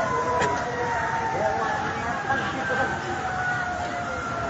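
A fire truck siren wails at a distance during a compound fire in Parañaque, a sustained rising and falling tone above constant street noise and crowd babble.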